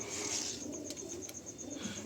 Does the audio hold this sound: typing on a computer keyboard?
no